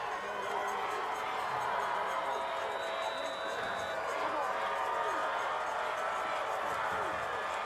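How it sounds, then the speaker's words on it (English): A high school football game crowd roars steadily in the stands, a broad continuous wash of cheering that holds loud throughout, with an announcer's voice running over it. "And this crowd is going crazy."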